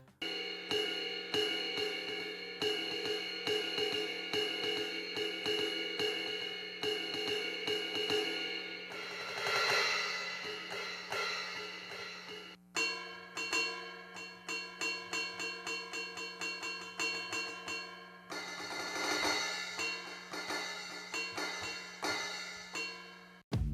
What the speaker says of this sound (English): There is a crash sound and a ride sound.